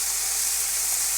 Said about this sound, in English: And let's get our steak cooking.